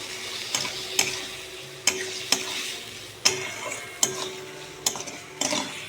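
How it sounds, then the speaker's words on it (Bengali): Taro stolons being stirred into fried mustard masala in a pan, with repeated sharp spatula scrapes and knocks at an uneven pace over a steady sizzle, close and clear with no talk. "ভালো করে নাড়াচাড়া করে নেব।"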